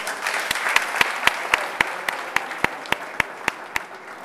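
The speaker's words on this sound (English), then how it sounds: "A big round of applause for all of our elected officials" Sparse applause for elected officials at a press conference: a thin wash of clapping with a few sharp, regularly spaced claps standing out, moderately faint throughout.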